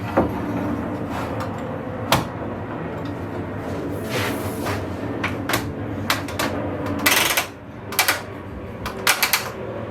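Ratchet clamps being cranked tight on a large gate build in a workshop, a series of sharp clicks and ratcheting bursts scattered over low room rumble, close and fairly loud.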